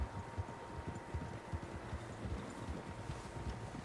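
Horse hooves clip-clop steadily in Red Dead Redemption 2 as several horses move along a trail, the even rhythmic thuds close and moderately loud over a low ambient wash with no talking.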